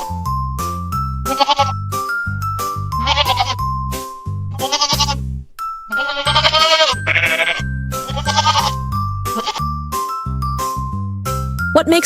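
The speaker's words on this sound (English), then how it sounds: "Ma, ma, it's a goat." Goat bleating repeatedly, loud and close, its wavering cries alternating with bright jingling, bell-like music in a steady rhythm.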